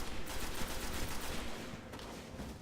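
Sustained rattle of an auto rifle firing in Destiny, a steady stream of quick shots that eases toward the end, heard without speech.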